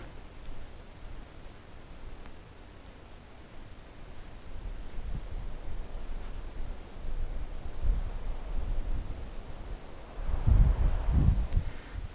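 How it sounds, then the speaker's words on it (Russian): Wind blows at a fishing spot, a continuous rushing hiss with rumbling microphone buffeting that builds gradually into a strong gust near the end. No one speaks. "Сегодня ветрено."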